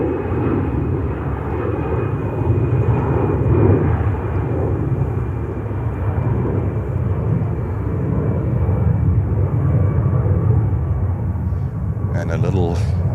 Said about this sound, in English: Virgin Atlantic 350-1000 from London Heathrow.